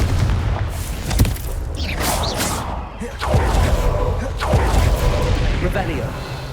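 Confringo fire-blast spells cast in the wizarding game Hogwarts Legacy: a run of sharp, punchy booms and thumps, several in quick succession, over constant crackling combat noise.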